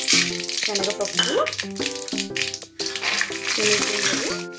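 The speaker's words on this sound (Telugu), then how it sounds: "శనగగింజలు పోపులో వేసి పల్లీలు శనగగింజలు వేగే వరకు కలుపుకోవాల్సిందో." Chana dal and peanuts fry in hot oil with mustard seeds for a lemon rice tempering, a close sizzle with light rattling as they are stirred.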